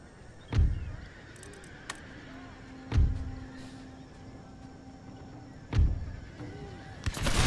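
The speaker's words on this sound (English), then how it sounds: "all the cavalry is riding past" Cavalry horses in the video game Empire: Total War whinny now and then over dull thuds and a low rumble of movement as they ride past, with no talking.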